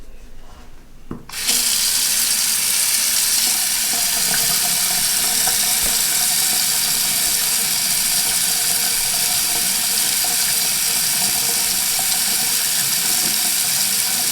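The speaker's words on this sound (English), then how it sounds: "Seems to be flowing down the drain just fine." Water runs steadily from a tap and drains down a sink after a slow-drain fix, a constant loud rushing splash starting after a brief quiet moment.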